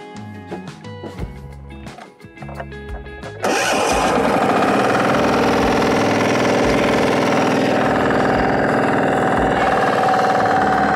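FTI2010DE mini tractor engine with an upgraded transmission, running in front gear: uneven low chugging at first, then a sudden jump to a loud, steady, high-revving drone that holds to the end.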